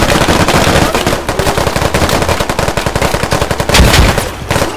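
Machine gun fire in a video game rattles loud and rapid, shots coming in a steady stream that briefly pauses and then resumes, with a heavier boom near the end and no talking.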